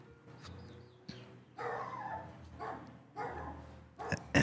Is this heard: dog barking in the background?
yes